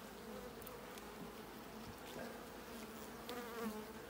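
Honey bees hum in a dense, steady drone from an open hive, close and continuous, with a few brighter passes as individual bees fly near and no talking.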